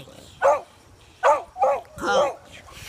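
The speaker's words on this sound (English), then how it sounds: "Now you're barking at me." Four short, sharp puppy barks close up, spaced unevenly over about three seconds, with quiet pauses between them.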